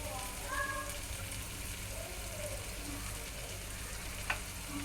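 Cut potatoes fry in a pan for Gujarati-style batata poha with a soft, steady, continuous sizzle and a few faint clinks in the background.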